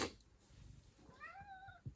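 A single drawn-out cat meow, rising then falling, fairly close and clear against a quiet room, followed by a soft thump.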